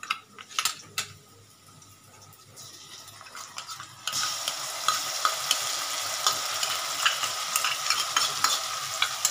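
Masala paste stirred with onions in a pan for bhindi masala: a few clinks and scrapes of a spoon at first, then a sudden strong sizzle of frying that continues with steady stirring and utensil taps.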